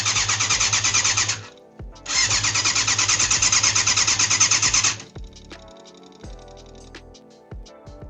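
A neglected classic 1980s sportbike engine is cranked by the starter in two loud, rhythmic churning bursts of a few seconds each without catching, followed by quieter clicks and rattles.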